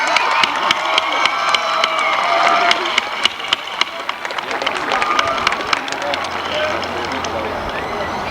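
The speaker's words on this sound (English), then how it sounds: "if you would give a big round of applause to Mr. McDonough for all the work he's done" A graduation audience breaks into applause with cheers and shouts, a dense crowd clapping with scattered loud claps and voices rising over it.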